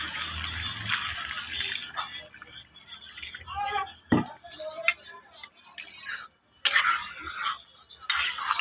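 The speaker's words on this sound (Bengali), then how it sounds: "এখন আমি ঝোলটা দিয়ে দেব।" Water poured into a pan of cooked-down Bengali mixed vegetable curry to make the gravy, giving splashing, dripping liquid sounds in short bursts with a sharp hiss near the middle; a voice talks through parts of it.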